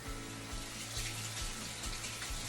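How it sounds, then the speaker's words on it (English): Running tap water pours steadily over black beans being rinsed in a kitchen sink, a continuous close splashing hiss with no talk. "So what I'm gonna do is rinse these off."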